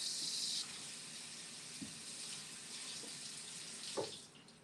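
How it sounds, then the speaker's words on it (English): A kitchen tap runs steadily while broccoli is rinsed beneath it, a soft, even hiss of water with a few faint knocks and splashes as the florets are turned, close and quiet with no voices. "Let me rinse this broccoli off."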